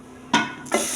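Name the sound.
desi ghee tadka sizzling on rice masar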